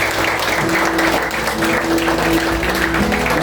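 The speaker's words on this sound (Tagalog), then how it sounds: "Isang malakas na palakpak sa ating Panginoon." Loud, dense applause from a church congregation honoring the Lord, a full roar of many hands clapping close and steady for the whole stretch, with a faint sustained tone running beneath.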